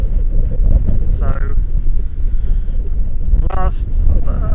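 Strong outdoor wind buffets the microphone in a constant loud low roar that persists throughout, while a person talks over it.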